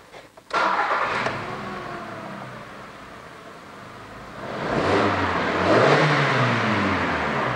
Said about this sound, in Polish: i zrobimy przegazówkę